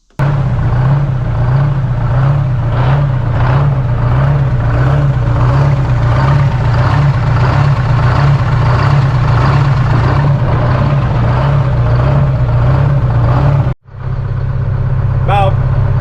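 A Detroit Diesel 8V-71 engine runs in a GMC "Jimmy" cabover semi truck, a loud, steady idling drone with a pulsing low throb, briefly cutting out near the end before resuming, with a voice talking over it.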